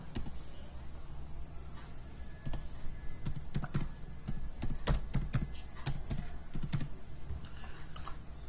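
Typing on a computer keyboard while entering text into an Excel spreadsheet: a steady run of close, crisp key clicks with uneven rhythm and occasional louder strokes, with no voices.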